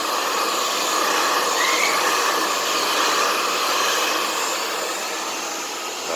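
A hot-air dryer blows steadily over layers of polymer resin on a vinyl (Skaï) armchair under repair, a loud, even rushing hiss that runs unbroken throughout.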